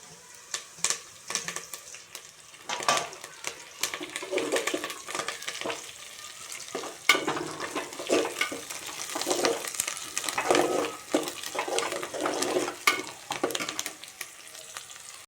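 Onions and curry leaves fry in a pan with a steady close sizzle, and stirring adds scrapes and clatters over it throughout.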